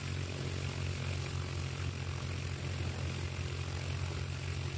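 A 2007 Chinook Plus 2 ultralight aircraft flies with a steady low propeller and engine drone, moderately distant and unbroken, with no talking.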